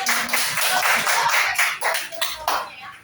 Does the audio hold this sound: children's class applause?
yes